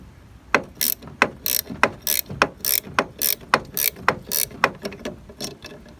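A gear puller is worked to draw a gear off an air compressor on a 1987 Wanderlodge PT36, giving a loud, close series of regular ratcheting clicks in an even rhythm.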